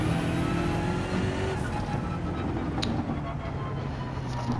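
A turbocharged BMW race car in the Gran Turismo racing game, GR3 class at Bathurst, drones steadily under hard throttle, its engine note holding loud and continuous with a faint whine on top.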